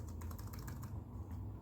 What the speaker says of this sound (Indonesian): Kita akan mengetik di sini.